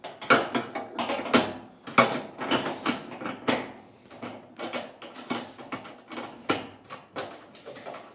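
A stainless steel sanitary clamp is fastened over a gasket on a maple syrup evaporator fitting, producing a series of close metallic clicks, taps and ratcheting rattles in an irregular rhythm without any talking.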